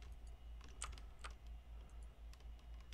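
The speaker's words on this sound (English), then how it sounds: "So on Aurelian's screen, she's typing a URL." A URL is typed on a computer keyboard as a quick, irregular patter of light key clicks. The clicks are faint and close over a steady low hum, and no one speaks.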